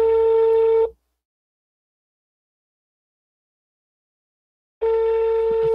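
Telephone ring tone on a prank call: a ringing burst, a few seconds of silence, then a second burst, loud and alone with no talking.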